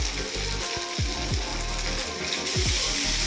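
Fish fry crackles loudly in hot oil with a dense, continuous sizzle, and several sharp bubbling bursts rise up as pieces settle into the pan.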